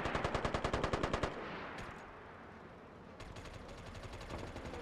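Rapid automatic gunfire from the PS3 shooter MAG rattles in a fast, even burst of shots, then drops away to quieter game ambience before sparse distant firing resumes.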